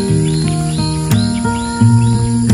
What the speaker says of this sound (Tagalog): Nadidinigin naman, huni ng mga ibon